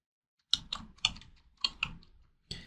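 Typing on a computer keyboard, a few quick bursts of close, crisp key clicks separated by short pauses in an otherwise quiet room.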